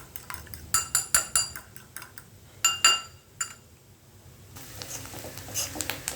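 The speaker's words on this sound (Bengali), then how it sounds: "কাঁটা চামচ দিয়ে এরকম করে ভালো করে ফাটাইয়ে নেবেন ডিমটা।" A fork rapidly clinks against a bowl while beating an egg, coming in quick rhythmic bursts of sharp metallic taps with short pauses between them, close and alone before fading into a softer sizzle.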